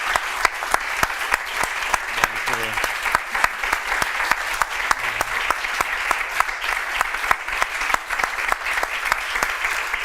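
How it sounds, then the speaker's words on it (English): Audience at a public talk on democracy applauding the Slovak writer Martin Milan Šimečka, steady hall clapping with distinct sharp claps standing out, continuous for ten seconds. "please a big round of applause for Martin Shimečka"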